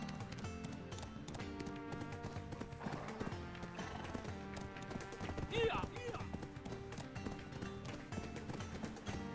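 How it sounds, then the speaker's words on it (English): Horse hooves clip-clop in a steady trot in Black Desert Online, sitting under continuous game music with background chatter and occasional whinnies. "This horsey can't go that fast."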